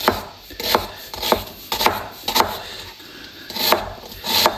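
A sharp knife chops vegetables into large chunks for chili con carne, about nine crisp, evenly spaced strikes against a board, close and clear with no talk.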